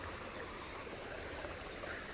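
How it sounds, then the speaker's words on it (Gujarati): Water gushes from a farm pump just switched on, a steady, even rushing flow that holds without a break throughout, with no talking. "તો આપણે પાણી આવે છે,"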